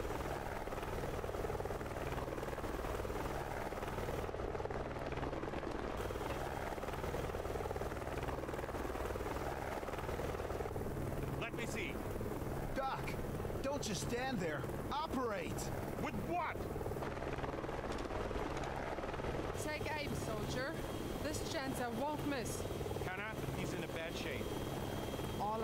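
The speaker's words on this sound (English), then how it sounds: "Don't shoot down my chopper." A helicopter in the action video game Wanted: Dead, a constant loud rotor drone and engine hum running throughout, with someone talking over it intermittently.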